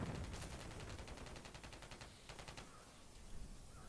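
Gunfire tears through a building in Call of Duty MW3, a rapid automatic stream of distant shots in quick, evenly spaced bursts, fairly faint and without speech.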